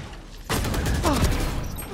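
Gunfire in a video game breaks out suddenly after a quiet start, a dense rattling burst of shots that continues to the end of the short clip.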